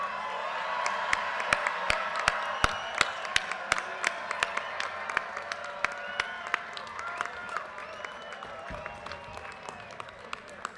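The graduating audience at the UVA Darden 2023 ceremony applauds in a large hall, dense steady clapping with scattered louder claps and some cheering and whoops, with speech partly heard over it.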